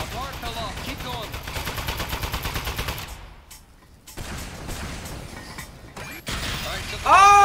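Rapid machine-gun fire from a gun-toting toilet in The Desk Job video game rattles in a dense, steady stream, briefly drops out, then resumes, loud and close, with game effects layered on top.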